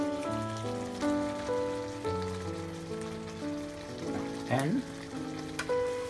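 Gravy for a potato and mutton dish reducing slowly on a hot plate, a steady bubbling sizzle that continues throughout under music, with a brief spoken word.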